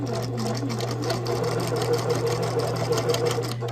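A sewing machine stitching fabric for a quilt block, a loud, close, rapid mechanical whirr with even rhythmic needle chatter running continuously without pause.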